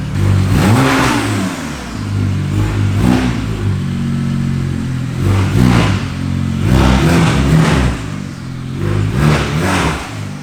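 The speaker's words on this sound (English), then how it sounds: "that straight pipe sounds good." A BMW 335i with a straight-pipe exhaust and a large intercooler revs up hard again and again, its raspy engine note rising and falling loud and close for the full ten seconds.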